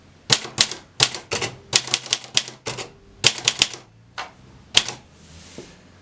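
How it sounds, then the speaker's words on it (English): Rapid keystrokes on a HEMA 44K mechanical typewriter come in irregular bursts of sharp, loud clacks with short pauses between runs, close and alone with no voices. "Now you've typed a line, or let's say we continue typing for a bit."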